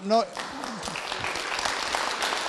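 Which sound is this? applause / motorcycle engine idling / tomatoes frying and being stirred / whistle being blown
applause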